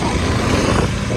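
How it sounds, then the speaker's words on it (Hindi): KTM 200 motorcycle being ridden, a dense, continuous engine roar mixed with rushing wind noise, loud and close throughout a brief stretch. "अभी हम राइड कर रहे हैं KTM 200"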